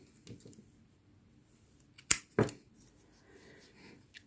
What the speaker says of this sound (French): je vais couper le fil blanc